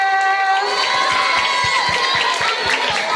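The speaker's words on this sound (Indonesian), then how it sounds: "Tepuk tangan semuanya." A primary school audience at a library opening and language-month event cheers and shouts, with children's voices loud and high, over a steady rhythm of claps.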